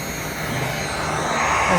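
A heat gun blows steadily on craft material being heated and shaped for homemade Halloween decorations, a continuous close airy roar with a faint motor whine, holding even and unbroken throughout without any talk.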